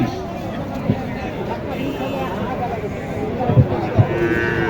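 Cattle at Mataji Haat cattle market in Naogaon, where Sahiwal bulls and calves are sold, low out in a few short moos over a steady crowd hubbub and nearby talking.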